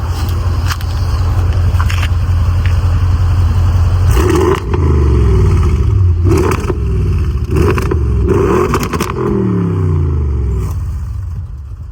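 Audi RS6 C7 engine revving from idle, several loud throttle blips rising and falling over a deep rumbling idle, close and powerful, with crackles between revs.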